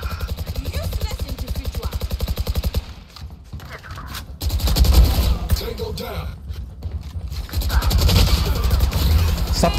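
Rapid bursts of Valorant gunfire rattle almost continuously, loud and close, with a short lull before the shooting resumes under faint voices.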